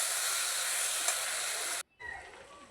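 Spring onion greens fry with mustard paste in a pan, giving a steady, bright sizzling hiss that cuts off abruptly and then resumes more softly.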